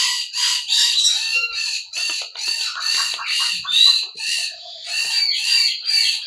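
A Serama rooster crows loudly and close up in a rapid series of harsh, repeated bursts that run through the whole stretch.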